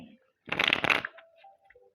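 Tarot cards shuffled during a reading, one brisk close riffle lasting about half a second, followed by faint handling sounds and a short voice.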